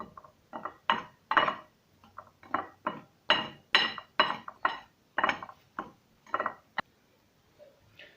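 Plain flour, corn flour and starch being mixed in a bowl: a steady run of clinking, scraping strokes against the bowl in uneven rhythm, close and fairly loud, with no one talking.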